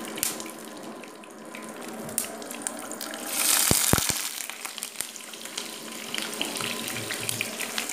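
Onions frying in hot oil in a pan for a jackfruit curry, a steady close sizzle with faint watery crackle and a few sharp clinks, a brief louder hiss midway.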